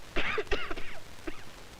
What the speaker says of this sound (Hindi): जब मेरा जी भर आता है तो मुझे खांसी आने लगती है।